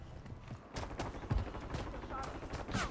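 Scattered gunshots crack in quick irregular bursts against a dense background of Call of Duty: Warzone game noise, some close and sharp, others more distant.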